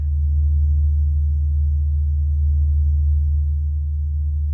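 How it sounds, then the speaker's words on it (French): The Sun's oscillations turned into sound, a loud, steady, deep rumbling drone of low tones that holds without a break. "Voici le chant du Soleil."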